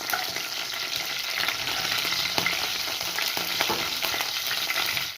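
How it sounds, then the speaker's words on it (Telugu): Mustard seeds splutter and sizzle in hot oil as a tempering for an Indian curry, a dense, steady crackling and hissing close by that continues throughout without any voices. "ఆవాలు చెట్పట్లు ఆడిపోయి పోపు అయిపోయింది"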